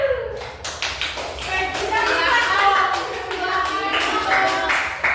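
A classroom group claps for group 1 during a micro-teaching science lesson, the claps fairly close and steady with children's voices mixed in throughout.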